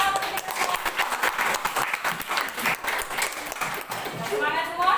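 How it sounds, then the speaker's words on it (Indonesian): Classroom group clapping at a teacher-training lesson in Indonesia, brisk and close, with voices talking over the applause throughout. "Tepuk tangan untuk kita semua."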